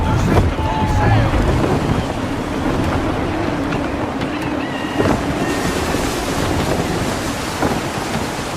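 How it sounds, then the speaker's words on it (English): Gusty wind roars over a sailing ship while waves wash against the hull in the video game Assassin's Creed 3, a loud, constant rush of wind and surf with no voices. "Wind looks to be shifting. Stay alert, Connor. Gusty winds can be difficult to manage"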